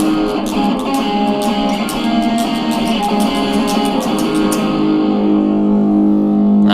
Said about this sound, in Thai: ใส่เสียงแตกไปเลย